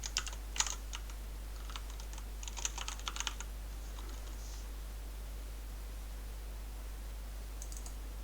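Bursts of typing on a computer keyboard, quick clusters of clicks in three short runs over a steady low hum, then quiet.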